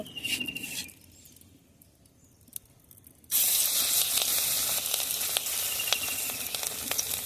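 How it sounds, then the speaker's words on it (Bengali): Kalmi greens pakora fritters dropped into hot oil in a kadai: a quiet stretch, then a sudden loud, steady sizzle and crackle that continues to the end, with no talking. "তেল গরম হয়ে গেছে এখন আমি একটা একটা করে দিয়ে বড়াগুলো ভেজে নেব"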